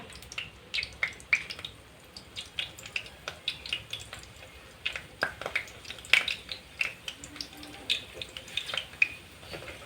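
Pitha dumplings dropped one by one into hot oil in a home kitchen, giving a steady crackling sizzle studded with sharp pops and spits, close and moderately loud, with no talking.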